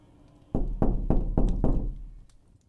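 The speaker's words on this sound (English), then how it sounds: "I woke up to heavy knocks on my door around sunrise." Four heavy knocks on a door land in quick, even succession, loud and close, as deep wooden thuds with no voices.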